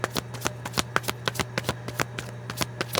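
A tarot deck is shuffled by hand in quick rhythmic riffles and soft card snaps, close up and quiet over a low steady hum, with no talking.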